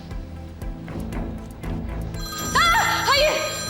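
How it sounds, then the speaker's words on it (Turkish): A telephone rings with a steady electronic ringtone, rising over background music and voices in a dramatic indoor scene; the tone is loud and clear toward the end. "Telefonunuz çalıyor Bora Bey açın."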